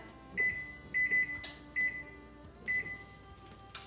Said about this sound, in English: don't forget to turn on the timer